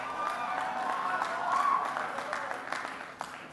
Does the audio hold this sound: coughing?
no